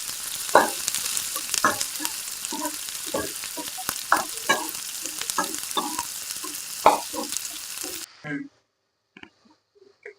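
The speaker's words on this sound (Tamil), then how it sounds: "நம்ம இப்போ காளானை போடுறோம்" Washed mushrooms are tipped into a pan of softened tomato and spices for a mushroom gravy, then stirred: loud, close sizzling with rhythmic scraping strokes that stop abruptly near the end, leaving near silence.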